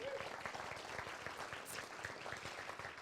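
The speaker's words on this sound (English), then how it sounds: "feel free to applause" Applause from the audience at a forum panel, faint and fairly distant, with continuous clapping and a murmur of crowd noise underneath, no clear speech.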